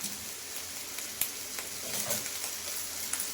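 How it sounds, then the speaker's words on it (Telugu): Brinjal pieces frying in hot oil give a faint, steady sizzle with a few soft crackles, close by and with no voices. "ఆయిల్ హీట్ అయిన తర్వాత వంకాయ ముక్కలు వేసేసుకుందామండి"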